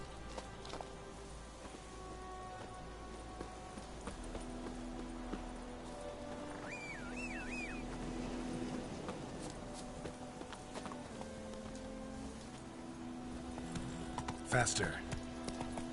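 Horse hooves clip-clop at a steady walking pace in The Witcher 3, with a brief whinny partway through, heard under game music and a short spoken line.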